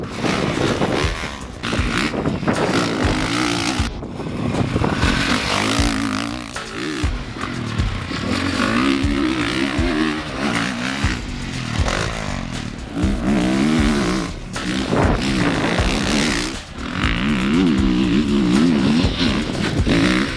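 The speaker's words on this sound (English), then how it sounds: "today we're testing the 2013 CRF450R" A 2013 Honda CRF450R dirt bike rides hard and close, its engine loud throughout and rising and falling in repeated revving bursts, with scraping and clattering from the ground and gear shifts.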